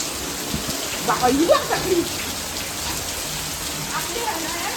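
Heavy overnight rain pours down during flooding, a steady, dense hiss filling the whole scene, with a brief faint voice rising over it partway through.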